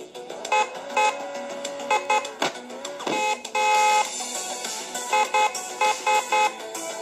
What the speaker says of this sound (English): See, honk my horn right here.